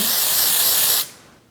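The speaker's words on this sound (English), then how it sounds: "I lift up the section, spray some in there, let it dry for a minute, and then kind of zhuzh it up." Hair texture spray hisses from a can into a lifted section of long blonde hair in one steady, close, loud burst lasting about a second, then cuts off to quiet.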